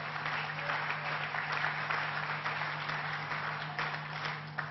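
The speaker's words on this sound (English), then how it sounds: "Let's give them a round of applause." Audience applause fills a hall at the Tribeca Film Festival, dense and sustained clapping that holds steady throughout at moderate loudness.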